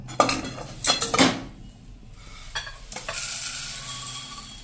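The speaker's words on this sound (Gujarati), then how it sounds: "આપણે આ મમરાને એક વાસણમાં લઈ લેશું" Roasted puffed rice tipped from a pan into a vessel, with metallic scraping and rustling pours in a few bursts, close and fairly loud, then a quieter shuffle of grains settling.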